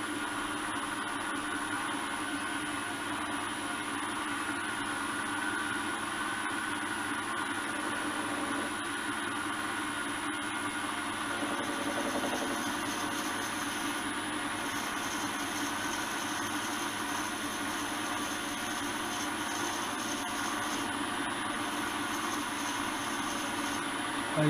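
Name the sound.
lathe running while making a valve guide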